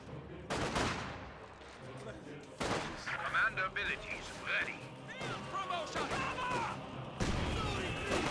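Gunfire and explosions from the real-time strategy game Company of Heroes 2, including a gun firing on a flak half-track, with sharp loud bursts and crashing blasts repeating over several seconds amid ongoing battle noise.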